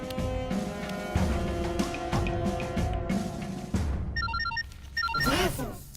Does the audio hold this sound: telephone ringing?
yes